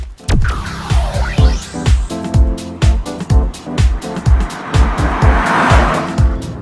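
A 2012 Toyota Camry on a test drive, heard as a steady run of rhythmic, punchy pulses with a squealing, sweeping tone near the start and no talking.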